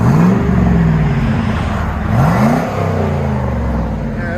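A 1998 Chevy Camaro Z28 with a 5.7L V8 and dual Magnaflow exhaust idles deep and loud up close, then pitch rises and falls in a couple of gentle revs as the car backs out.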